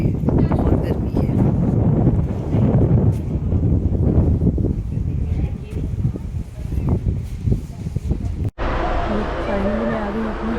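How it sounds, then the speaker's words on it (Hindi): Hot wind blowing steadily at Gorewada Zoo in Nagpur on a scorching day, a continuous loud rushing buffet across the microphone with faint background chatter, ending in a brief cut to a quieter scene. "गर्म हवा चल रही है, बहुत गर्मी है।"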